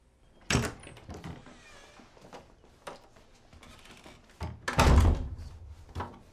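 Heavy door thuds shut in the horror-thriller game Erica, with two loud knocking impacts about four seconds apart and scraping, rattling handling noise between them, close and clear with no talking.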